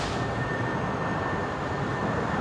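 A Jetstar airliner rolls down the runway at Brisbane Airport, heard as a steady, moderately distant broadband roar with a faint thin tone running through it.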